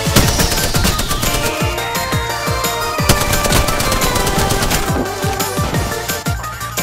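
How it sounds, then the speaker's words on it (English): A heavy machine gun in a video game fires rapid, loud sustained bursts for the whole stretch, dense repeated cracks layered over a descending whine and other game noise. "Heavy machine gun."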